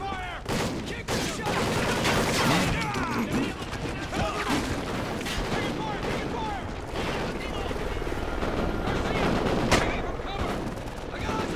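Heavy gunfire in the video game Call of Duty Ghosts: rapid automatic bursts and scattered shots crackle loud and continuous, mixed with booms, while voices shout in the middle of the firefight.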